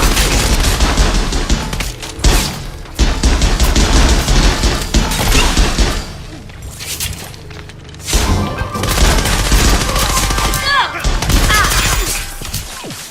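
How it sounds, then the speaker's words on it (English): Enemy gunfire in the shooter game Scavengers, loud dense bursts of rapid shots and crashing impacts coming in waves with brief lulls, under occasional talk. "we're just going to keep everyone out of our little thing here while people are shooting at us"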